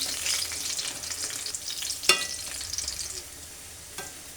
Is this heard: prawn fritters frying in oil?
yes